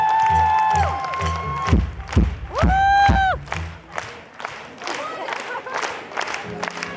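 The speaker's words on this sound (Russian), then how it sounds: "Спасибо, аплодисменты!" At a band concert in Krasnoyarsk, the crowd cheers and claps amid loud stage sounds, with sustained synth tones and thumps sweeping over the hall and applause swelling and fading in bursts.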